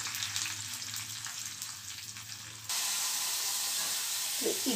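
Curry leaves and turmeric frying in hot oil in a kitchen, with a steady hissing sizzle that swells suddenly louder partway through and stays broad and close.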